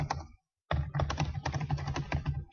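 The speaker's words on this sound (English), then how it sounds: "So you can just type in your text" Fingers typing on a computer keyboard in quick, uneven clusters of clicks, close and clear, with a brief pause near the start before steady keystrokes resume.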